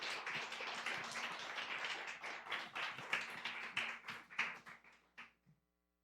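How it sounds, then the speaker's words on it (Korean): A church congregation claps as a student is called forward, with dense clapping that thins into scattered separate claps and stops near the end. "우리 이 시간 나오실 때 큰 박수 부탁드리겠습니다."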